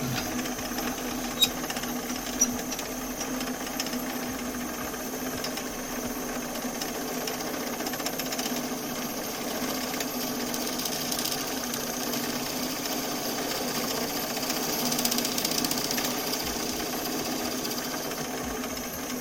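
Wood lathe running during woodturning, a steady mechanical hum with a rapid whirring rattle throughout, plus a couple of brief knocks near the start.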